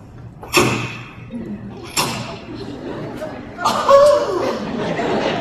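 A voice imitates a car door slamming, with two sharp bursts followed by a longer noisy mouth sound, alone without other speech.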